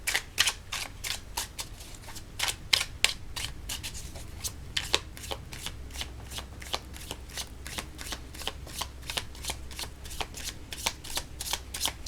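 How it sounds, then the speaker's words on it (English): Oracle cards are shuffled by hand in quick, crisp riffling bursts, close and fairly soft, repeating steadily with no one talking. "now I'm going to pull a chakra card for you"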